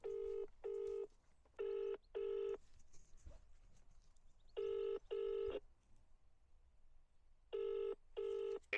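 A telephone keypad dials out, sending paired bursts of touch tones in three groups separated by short pauses, clear and close with a quiet background.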